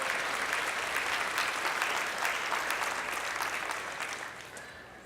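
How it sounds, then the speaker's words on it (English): Commencement audience applause fills a large venue, dense and sustained clapping from many people, loud and even before slowly tapering toward the end. "I think they deserve some appreciation and a round of applause."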